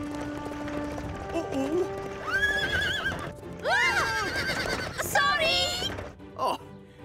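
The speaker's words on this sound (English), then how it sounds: "I hope he's not going to scare the horse." A horse beside a fire station neighs and whinnies in several loud rising-and-falling bursts, with hooves clip-clopping underneath and short musical tones early on, in a cartoon scene.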